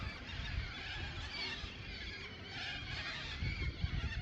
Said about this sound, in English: Oh, there's heaps of birds around, eh?